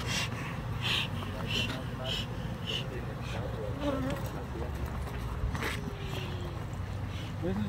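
Killer bees buzzing close and steadily throughout while they are handled, with people talking faintly underneath.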